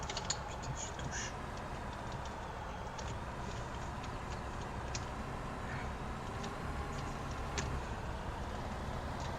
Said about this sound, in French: Faudrait que le tracteur il arrête d'avancer